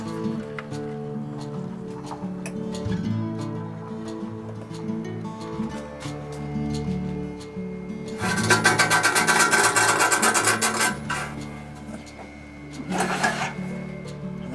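A vintage Tauco pillar drill on a test run, motor humming steadily, then a loud rubbing, grinding rasp breaks in midway and returns briefly near the end, close by with no talk.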